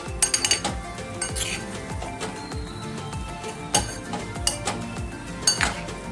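A pigeon pea pod usal is sautéed in a pan, with sharp metallic clinks and scrapes of a spoon against the pan at irregular intervals over a low background, close up and without talking.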